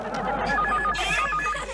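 A telephone bell rings in a steady repeating trill inside a home during a family comedy scene, loud and close with faint background murmur.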